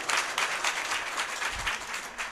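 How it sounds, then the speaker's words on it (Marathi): An audience claps during a Marathi devotional sermon, a dense and steady burst of applause from a crowd, moderately loud and without clear speech. "वाह वाह टाळी वाजवायला"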